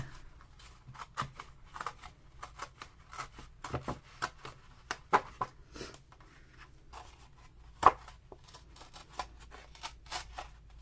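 Paper is torn slowly and carefully in short, quiet scratchy bursts with brief pauses between, close and faint against a near-silent room.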